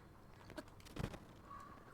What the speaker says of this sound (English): Mr. Crow or Raven, could you shut up?